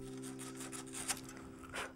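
Steady dry rubbing and rasping of abrasive against copper tubing before soldering, continuous and close, with a few brighter scrapes; a low electrical hum runs underneath.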